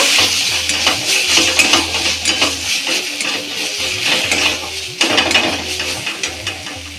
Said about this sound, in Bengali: একটু দিয়ে দেবো ধনের গুঁড়ো। এটাকে একটু নেড়ে নেব।